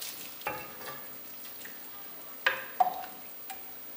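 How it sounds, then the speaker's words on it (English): Cajun-seasoned chicken stock is ladled onto risotto rice cooking in a pan, giving a steady sizzle with a few sharp splashes and clinks of the ladle near the middle and end. "we're going to go ahead and just ladle it on here"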